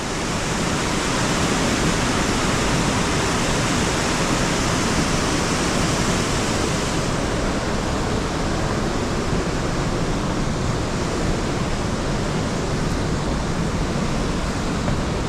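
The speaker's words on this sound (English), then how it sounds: "look how much water's getting pushed through those big boulders" A waterfall rushing through big boulders at a falls park, a loud, dense, unbroken roar of churning water heard up close and steady throughout, with no voices.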